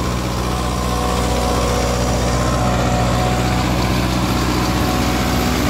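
A Kubota MU5502 four-wheel-drive farm tractor engine runs steadily at a smooth, even idle, loud and close, with a low rumbling drone and no speech over it.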